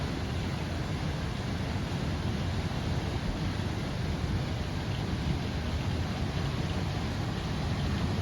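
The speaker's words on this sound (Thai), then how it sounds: "พายุลูกเห็บครับพายุลูกเห็บกำลังตกครับพายุลูกเห็บ" A dense, steady roar of hail and rain falling hard in a windy storm fills the whole stretch with unbroken wash, with no voices heard.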